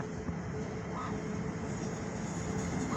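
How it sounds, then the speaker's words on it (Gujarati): A train passes at a distance near the University of East London, a steady low rumble over about three seconds, fairly faint and without talk. "જો ટ્રેન નીકળે છે"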